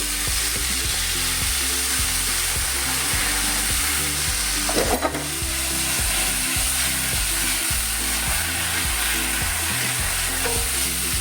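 Soy sauce hits a pan of crispy tofu and sizzles steadily, a constant bright frying hiss that stays even throughout, with one sharper burst of spatter and stirring noise midway.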